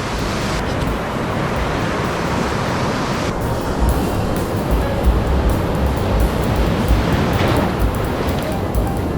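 Ocean waves breaking at a surf school beach in Bali: a continuous broad roar of surf with wind buffeting the microphone, loud and unbroken.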